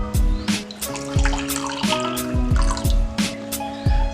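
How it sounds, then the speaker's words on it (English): Water poured into a cup, about half a cup, heard as close, bubbly splashing and gurgling with rising glugging tones and dripping, steady and loud with no talk. "That's about half a cup of water."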